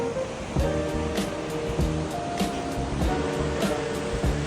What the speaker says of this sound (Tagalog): maririnig mo yung agos ng tubig sa ilog